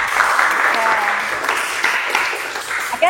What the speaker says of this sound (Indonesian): Kasih aplaus untuk temennya